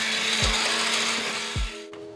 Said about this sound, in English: we're gonna use our hand mixer